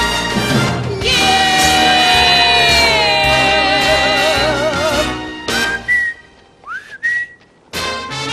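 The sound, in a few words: person whistling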